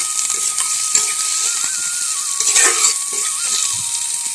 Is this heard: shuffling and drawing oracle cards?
no